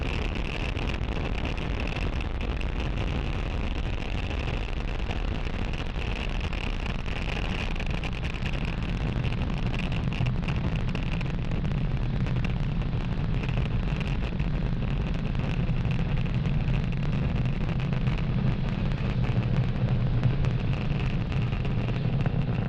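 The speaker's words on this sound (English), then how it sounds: "You are watching Falcon 9 as it accelerates our Starlink satellites into orbit" Falcon 9 rocket engines during a Starlink launch make a steady, dense, low roar that continues without a break. A constant hiss and rumble stays loud and unchanging throughout.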